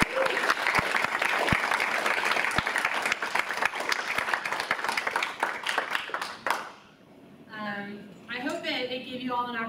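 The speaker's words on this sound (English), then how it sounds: "Could we get another round of applause for all of us?" Audience applause at a university honors college anniversary public debate, a dense steady clapping crowd for about six seconds that stops abruptly, followed by a voice talking alone.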